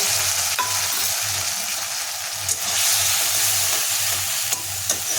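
Ground spices with ginger, chili, coriander and turmeric powder frying in oil, a continuous close sizzle with rhythmic stirring scrapes and a few utensil taps.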